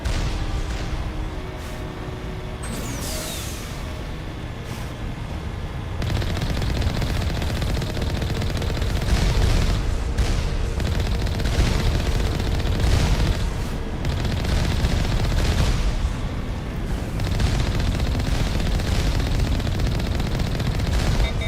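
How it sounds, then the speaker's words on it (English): Turret gunfire in the video game Mass Effect, a dense, continuous barrage of rapid automatic shots and booming impacts, loud and sustained throughout with no pause. "Lord, that's a lot of turrets."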